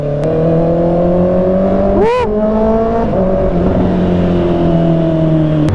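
Honda CBR650R inline-four motorcycle engine held at full throttle, a loud, steady high-pitched howl running throughout with a brief rising rev swell near the middle, close and continuous with no speech.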